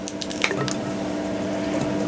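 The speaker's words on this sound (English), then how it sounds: "Plop it in the water" An elderberry cutting dropped into a container of water makes a soft, close squishy plop, followed by light dripping and trickling over a quiet background.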